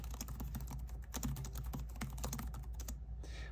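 Quick, steady typing on a Lenovo ThinkPad L13 Yoga 2 laptop keyboard, a dense run of close key clicks heard alone for a few seconds.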